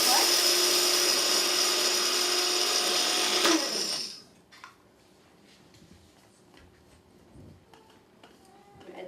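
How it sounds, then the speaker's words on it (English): A blender grinds flaxseed loudly and steadily for about four seconds, then cuts off abruptly, leaving quiet room noise with faint clicks. "just grind up the flax"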